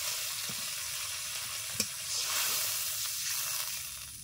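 Water poured into a pan of sizzling spices, oil and fish sets off a steady broadband frying hiss with a brief sharp crackle near the middle, close and continuous with no talk.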